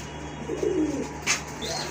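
Pet pigeons give a soft, low coo close by, one rolling call over a steady background hum, followed by a faint higher chirp.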